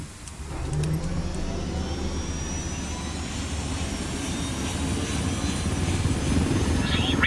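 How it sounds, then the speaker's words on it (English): A military helicopter in the video game Ghost Recon Wildlands whirs and drones steadily with loud rotor chop and turbine whine, continuous throughout without pause. "Now we're going to steal the helicopter,"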